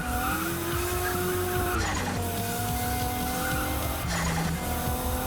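An overpowered car in the Race Wars driving game slides sideways, its engine droning loudly and steadily while tires squeal through the slide, with two brief bursts of harsher skidding noise; no voices.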